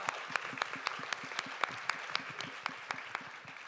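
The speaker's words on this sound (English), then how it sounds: "I think that deserves a round of applause." A round of applause from a keynote lunch audience at an International Women's Day event, heard as sparse, distinct claps at a moderate, uneven pace with a quiet room behind them.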